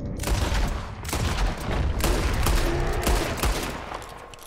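Rapid bursts of gunfire ring out in Red Dead Redemption 2 as shots are fired at a bear, loud and continuous, with overlapping reports and booming echoes throughout.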